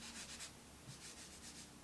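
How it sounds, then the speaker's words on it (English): Sandpaper is rubbed over a wooden decorative tole-painting piece in quick back-and-forth strokes, a soft rhythmic scratchy hiss, very faint and close. "So I'll take the time to do a little bit of sanding, and that will make my painting that much better."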